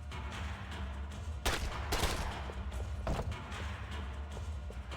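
Gunshots fired at a gate in the video game Max Payne 3, a few sharp cracks and a burst of rapid fire standing out over steady background game ambience and a low hum.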